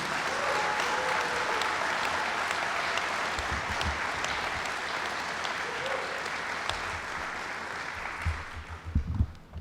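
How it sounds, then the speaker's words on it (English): Applause from the crowd at a high school football Ring of Honor ceremony, a sustained even clapping that carries for several seconds before thinning out into a few scattered claps and bumps at the end. "Can we get a round of applause for the East High Football Ring of Honor?"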